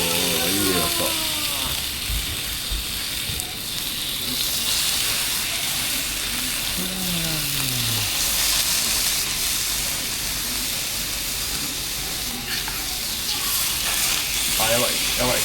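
Meat sizzles and hisses steadily on a camp stove in sub-zero cold, a dense close frying noise with a few clicks, while people talk quietly now and then.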